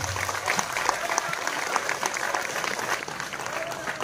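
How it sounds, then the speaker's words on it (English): Audience applause at a Palamuru University event, dense and steady throughout, with a murmur of crowd voices mixed into the clapping. "A big round of applause to even our Chief Minister Garu."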